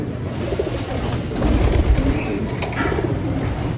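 Pigeons in a loft and aviary coo and shuffle close by in a steady, busy murmur, with low rumbling calls overlapping throughout and no speech.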